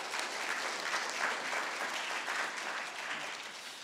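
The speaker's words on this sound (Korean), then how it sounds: "박수 한번 부탁드리겠습니다." Forum attendees in Seoul give a brief, moderate round of applause, an even patter of many hands that tapers slightly toward the end.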